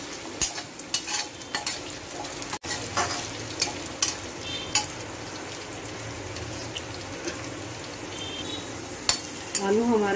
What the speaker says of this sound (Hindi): इससे हमारे आलू जल्दी फ्राई हो जाएंगे।